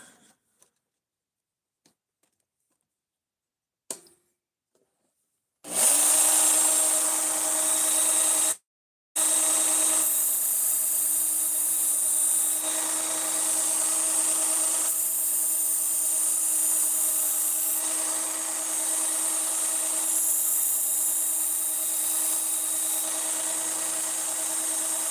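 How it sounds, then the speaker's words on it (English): Steady high-pitched grinding whine of a cutting blade being sharpened, starting abruptly after near silence, briefly cutting out, then running continuously and loud to the end with little variation. "Oh, let's just sharpen her up."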